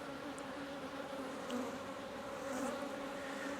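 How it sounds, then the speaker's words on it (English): Honey bees swarm around an open beehive, a steady low droning hum of many wings close by, faint and continuous with no talk over it. "Lots of bees."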